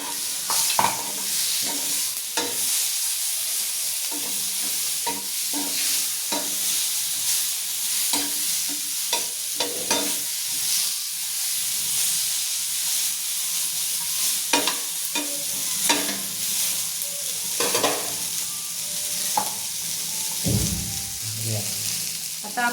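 Cashews, garlic and coriander are sautéed with onion in a pan under a continuous close sizzle, and a utensil scrapes and stirs it in frequent irregular strokes.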